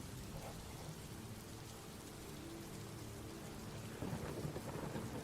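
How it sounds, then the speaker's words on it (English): A steady, heavy downpour of rain with rolling thunder during a mountain-path thunderstorm, dense and continuous throughout, with the rumble swelling louder near the end. "Hard to see anything in all this rain and thunder."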